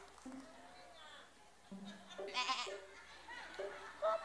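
A contestant imitates a goat's bleat with wavering, nasal cries, delivered in short bursts, with talk and crowd reactions mixed in.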